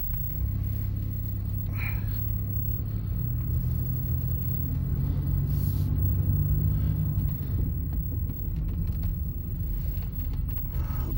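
A misfiring Trofeo engine drones steadily while the car drives around the block, a continuous low rumble with an uneven, lumpy undertone throughout.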